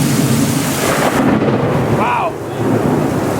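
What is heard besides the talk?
thunderstorm with thunder and rain in New Orleans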